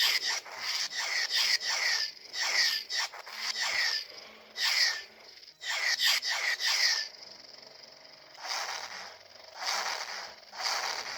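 Repeated lightsaber whooshing swing sounds from an Epicsabers Hauteclere saber in quick bursts, some clustered rapidly, others spaced apart, with short silences between; no talking.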